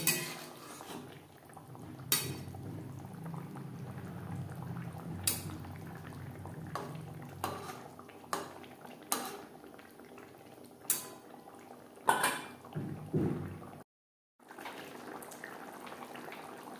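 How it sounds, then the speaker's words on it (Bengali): Fish simmering in curry gravy for a Bengali rohu fish jhal, a steady low bubbling with several sharp clinks of a spoon or pot between, close by and with no talk. "গ্রেভির সাথে মাছ আরও চার পাঁচ মিনিট রান্না করব"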